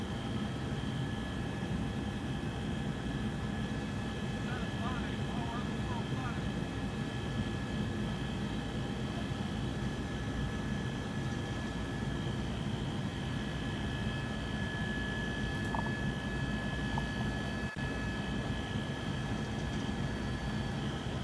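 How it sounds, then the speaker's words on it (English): A news helicopter flies overhead during live coverage outside a courthouse awaiting a verdict, a steady, moderately distant engine and rotor drone that holds without a break throughout. "Yeah, Jay, why don't you get news copter going just in case we start to get a little low on fuel?"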